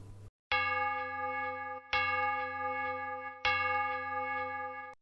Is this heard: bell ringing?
yes